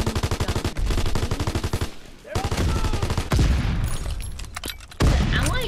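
Rapid machine-gun bursts and single gunshots from the Call of Duty: WWII beta, loud and rhythmic, with short pauses between volleys.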